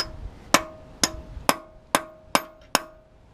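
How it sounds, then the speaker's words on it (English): A hammer taps a center mark on metal during an 02 Sienna to 04 Camry V6 engine swap. Six sharp, ringing metallic strikes land at a steady, evenly spaced rhythm, close and clear. "When I make a center, I'm going to tap it with a hammer."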